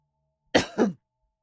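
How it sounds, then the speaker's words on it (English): A single close, dry cough in two quick bursts, loud against an otherwise silent room. "please forgive the cough"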